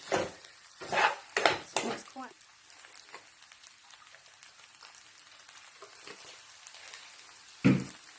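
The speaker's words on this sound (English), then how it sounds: "I'm just going to mix it together because the rice is cooked." Egg fried rice is stirred in a pan, with a few loud scraping clanks near the start and one at the end, separated by quieter soft rustling; someone speaks briefly.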